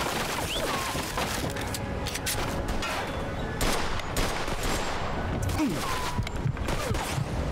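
Rapid bursts of gunfire from the video game Mafia 2 fill the clip, dense overlapping shots and fusillades at a steady loud level, with game voices mixed in.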